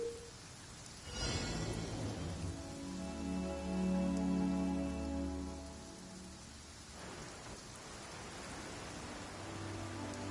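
Steady rain falls in a video game world, a dense even hiss that swells for a few seconds in the middle and carries a faint low rumble, with no voices.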